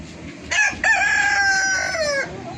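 A large white-and-black spotted native country rooster crows loudly nearby, one long strained call that rises and then trails off, over a quiet background.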